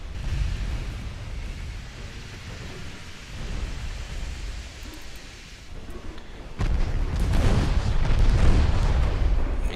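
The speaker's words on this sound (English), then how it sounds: "Ammo detonation." A ship's ammunition detonation in Ultimate Admiral Dreadnoughts rumbles as a long low roar of explosion, swelling into a heavier booming surge in its latter half amid continuous battle noise.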